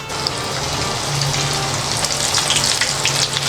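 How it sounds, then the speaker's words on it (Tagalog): Chicken wings, being cooked for garlic butter chicken, fry in hot oil with a loud, steady, close sizzle and crackle that continues throughout without voices. "Ready na po yung ating chicken wings at ipiprito na natin."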